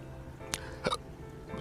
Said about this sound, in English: All the hiccups in the world.